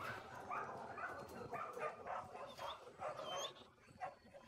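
Several dogs at an animal shelter bark and yip repeatedly in a fairly distant, echoing chorus, with a noisy room background.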